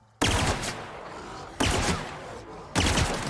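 Three loud, close gun bursts from The Outer Worlds, each a sharp blast with a short rattling tail, spaced about a second apart.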